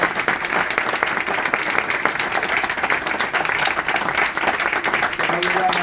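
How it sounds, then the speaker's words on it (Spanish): A cultural-society audience in Ibiza breaks into sustained applause after a talk on globalism and democracy, with loud, dense clapping throughout and some voices mixed in. "Aplauso."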